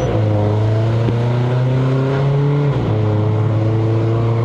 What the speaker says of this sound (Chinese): 听到了吗 ？Fart sound man。